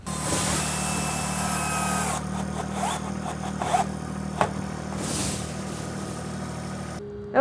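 Pump engine running while an old septic tank is pumped out, a steady loud mechanical drone with a low rumble, overlaid by intermittent clanks and rattles, continuous to the end.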